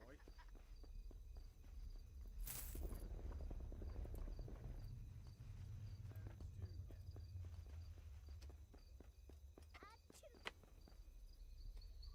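Steady hoof clip-clops of a horse in the video game Sacred run quietly under ambient game sound, a rhythmic walking pattern that stays faint and low throughout.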